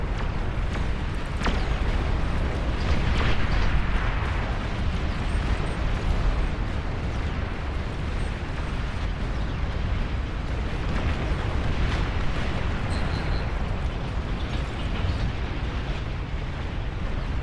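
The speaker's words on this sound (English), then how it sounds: "Nuclear launch detected." A nuclear missile detonates in the Beyond All Reason real-time strategy game during a massive 35-versus-35 battle, a sustained rumbling roar filling the whole stretch with a sharp burst early on, loud and continuous without speech.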